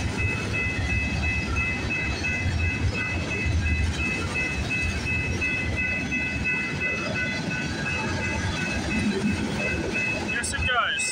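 A CPKC freight train with a distributed power locomotive passes at night at the Bronte Street crossing on the Galt Subdivision. A steady rolling rumble and rail clatter carry on throughout, with low voices nearby.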